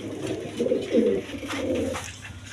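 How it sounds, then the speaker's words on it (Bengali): A pair of Danish pigeons coo up close in a repeated low, throaty rhythm of several soft, rolling calls, with no talk. "এইখানে এক পেয়ার ডেনিশ কবুতর আছে"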